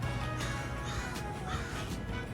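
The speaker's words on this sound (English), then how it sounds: "Crow." Faint, distant crow caws recur a few times over a steady broadband background hiss, with no speech.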